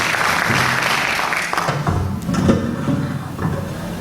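Audience applause for harp performers at a Paraguayan harp day concert, a dense, steady wash of clapping filling the room, loud and sustained before thinning slightly toward the end.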